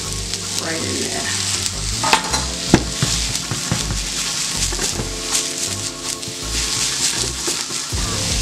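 Mushrooms sizzle steadily in a hot pan while a utensil stirs them, adding scraping and clacking against the pan, close and loud.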